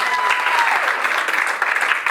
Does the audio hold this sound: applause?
yes